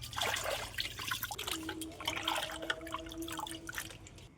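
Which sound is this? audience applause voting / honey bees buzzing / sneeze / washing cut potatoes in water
washing cut potatoes in water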